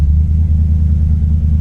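A Hardtop Valiant's engine, out on its first drive in years, gives a loud, close, steady low rumble with no noticeable revving. No voices.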